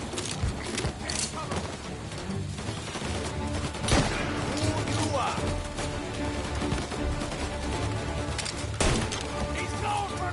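Rapid gunfire in the Mafia video game on PS5, dense continuous bursts of shots and impacts throughout, loud and close, mixed with shouting voices and game effects.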